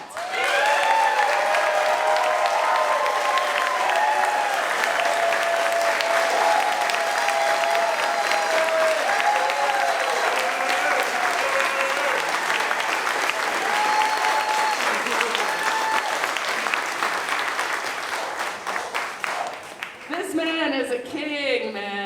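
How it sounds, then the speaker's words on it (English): Audience at the PorcFest 2021 rant competition giving a long, steady round of applause, dense clapping filling the room continuously before thinning out near the end as a voice begins speaking. "if you could all join me in the biggest round of applause for Dennis Pratt"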